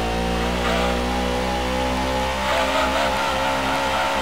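Dodge Charger race car in Gran Turismo 2 driving at high revs, its engine a loud continuous drone with steady harmonic whine and slight pitch shifts, no voices over it.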